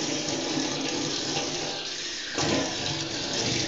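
A kitchen tap runs steadily while dishes are washed at a sink. The water gushes close and constant, surges briefly partway through, and no one speaks.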